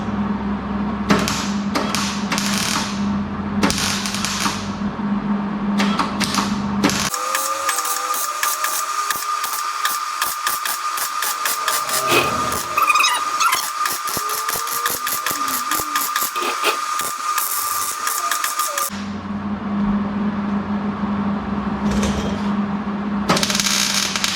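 A cab corner patch panel is tack welded with a MIG welder in short buzzing bursts, then a longer crackling run in the middle, then more brief tacks. Close and fairly loud, with nobody speaking.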